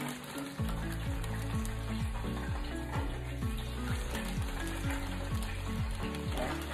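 Food frying in grease sizzles and crackles steadily and close at hand, with no talk, over a low layered hum.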